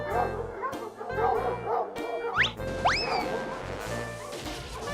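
Several dogs bark and yip in a cartoon shopping scene, a cluster of sharp barks with a couple of rising whimpering yelps in the middle, fairly close over a busy background with musical tones.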